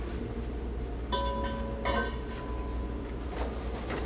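Ceramic bowls clink and knock against one another as they are moved and handled, two or three bright chiming contacts in close succession over steady room hiss, with a faint ringing tail.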